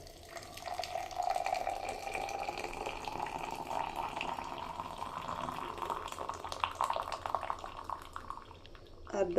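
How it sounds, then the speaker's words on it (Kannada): A boiled herbal decoction is strained and poured, a soft continuous trickle and splash of liquid that swells slightly near the end. "ಸೋಸ್ಕೊಳ್ತಾ ಇದ್ದೀನಿ."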